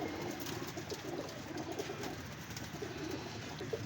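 Several pigeons coo softly and steadily in a loft or net enclosure kept for pigeon flying, a low rolling murmur of overlapping calls over constant background noise, with no one speaking.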